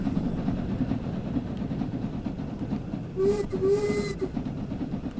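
A steam locomotive labours up a steep 1 in 37 grade in the video game Train Sim World 2, with steady rhythmic chuffing and rail rumble, and a short whistle blast near the end.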